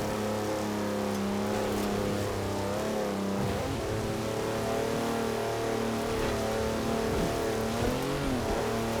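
An off-road car in Forza Horizon 4, carrying extra knobbly tyres, drones with a steady engine note that dips and rises as it shifts and revs again, loud and continuous without voices.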